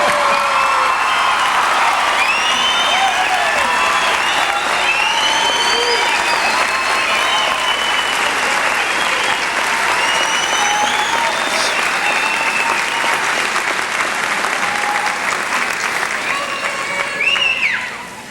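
A large crowd at a college commencement applauds graduates with loud, sustained clapping, scattered cheers and whistles over it, holding steady throughout before tapering off at the very end.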